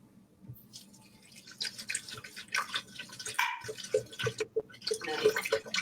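Water pours into a blender holding hemp seeds, making a splashing, trickling sound close by that builds and runs steadily for several seconds.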